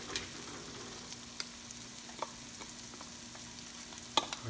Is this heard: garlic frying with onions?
yes